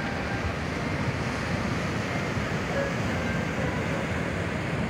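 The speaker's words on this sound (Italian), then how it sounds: "delle belle onde" Continuous surf roar of sea waves breaking on the shore at Ostia, Italy, a broad steady wash with wind noise, no voices, sustained for the whole stretch.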